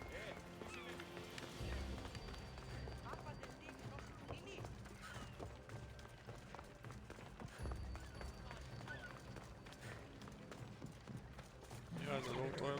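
Horse hooves running in Assassin's Creed Odyssey, a steady galloping clatter with game music and ambience throughout and a voice talking over it.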